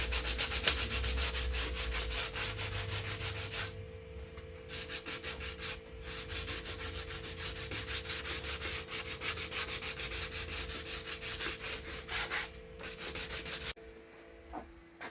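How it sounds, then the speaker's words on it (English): Filler on a Jeep JK mirror being sanded smooth by hand: rapid, steady back-and-forth rasping strokes, close and continuous for most of the stretch, stopping abruptly near the end. "I'm just going to sand it smooth."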